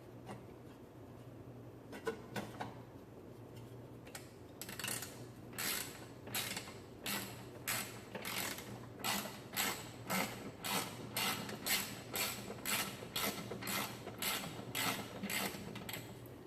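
Bolts being fitted while a carburetor is reassembled, a faint mechanical ratcheting with rapid, evenly spaced clicks that run steadily through most of the stretch after a few scattered taps.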